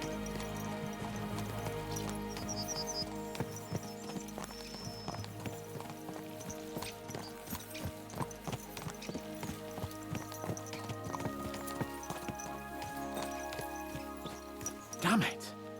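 Horses galloping in the video game Kingdom Come 2: rapid clip-clop hoofbeats under a full, continuous bed of game music and ambience, with a brief louder burst near the end.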